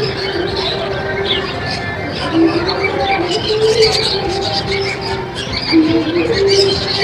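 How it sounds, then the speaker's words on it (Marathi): A caged lovebird at a fun fair chirps repeatedly in quick high bursts, heard under nearby people talking and general fairground babble. "हे लव बर्ड आहे"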